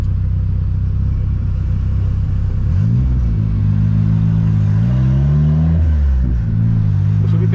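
A turbocharged Volkswagen Voyage accelerating through a residential neighborhood, its engine rumbling loud and close, with repeated rising revs and gear changes as it climbs the street.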